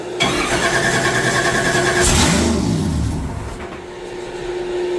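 A supercharged LS V8 on a dyno fires up and idles roughly, loud and close, with a sharp rise and dip in revs midway before settling back into a lumpy, uneven idle.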